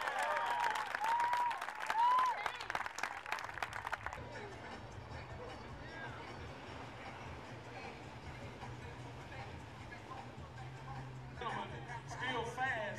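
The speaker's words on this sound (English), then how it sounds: "Give him another round of applause." US troops at a Fourth of July celebration applaud, with a burst of loud clapping and cheering in the first few seconds that gives way to a murmur of crowd noise and chatter, then swells slightly at the end.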